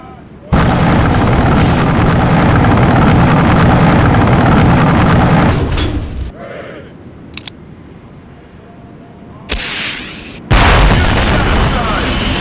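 In the Conflict: Desert Storm 2 video game, a tank under fire erupts in a loud, sustained explosion roar that fades into rumble, followed by a few sharp pops and a final heavy blast.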